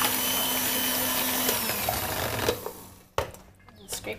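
Electric hand mixer whirs steadily through jelly cheesecake batter in a home kitchen, a loud continuous buzz that cuts off abruptly near the end, followed by brief clattering.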